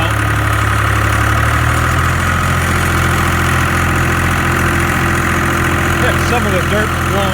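A Case IH 395 tractor engine runs steadily during a test drive, a loud continuous low rumble and drone throughout with no break.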